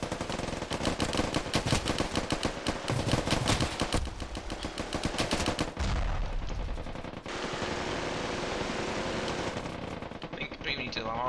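Gunfire in the Ravenfield video game, rapid automatic bursts cracking loud and close in a steady stream, thinning into scattered shots and a lingering roar near the end.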